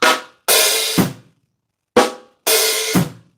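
Drum kit groove from a lick, counts four and one played twice: a short hi-hat tap followed by a sizzling open hi-hat that closes on a bass drum thump, close-miked with no speech.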